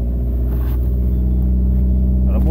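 A car engine idles steadily and close by, a low constant hum with a faint rise near the end, no voices over it.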